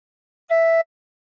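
A single hard-blown tin whistle note with four holes covered, a steady pure tone with bright overtones lasting about a third of a second, close and alone.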